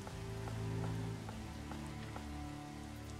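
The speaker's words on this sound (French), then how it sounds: "Il pleut, il mouille." Rain falls steadily in the medieval city-building video game Manor Lords, a soft continuous patter under a low droning musical score, with faint periodic taps.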